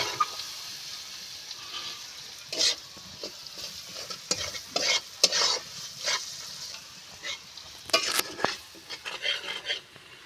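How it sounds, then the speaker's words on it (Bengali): Spice masala with salt, turmeric and chili sautéing in a pan, with repeated spatula scrapes and clinks over a low sizzle in an uneven stirring rhythm, no talk. "এবার আমি মশলাটা ভালো করে কষিয়ে নেব।"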